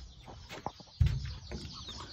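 Chickens on a small farm give a few short clucks and bird calls, with one louder burst midway, close by and with no talk.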